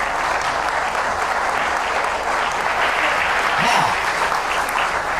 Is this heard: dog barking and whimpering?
no